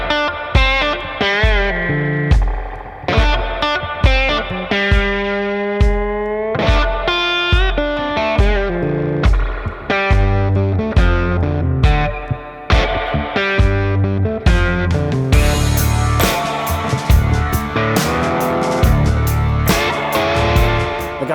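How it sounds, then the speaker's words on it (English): Electric guitar rings through a spring reverb pedal, plucked notes and chords with a splashy wash, building to louder, gritty strums near the end. "that pedal specifically has one of my favorite spring reverb sounds"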